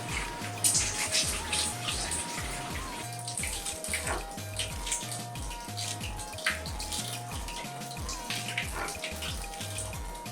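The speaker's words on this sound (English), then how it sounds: "so I wash the vegetables thoroughly" Vegetables being washed under a running kitchen tap, a steady stream of water splashing throughout with light handling sounds, alone and fairly close.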